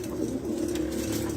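Red pigeons kept for sale coo steadily and close by, a continuous low throaty rolling with no talking over it.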